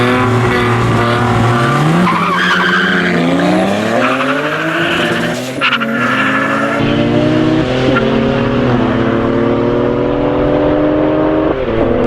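Nissan 200SX street race car in an underground street race, engine revving hard through rising gear pulls with loud tire squeal and skidding, steady and close for the whole stretch.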